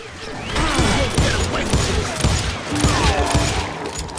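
Rapid, dense gunfire from the Western shooter Call of Juarez: Gunslinger, with loud overlapping shots and crashes filling the whole stretch without a break.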